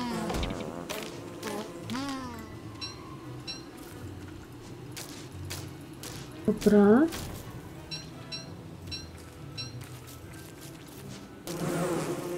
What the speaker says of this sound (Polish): spadać mi stąd pszczoły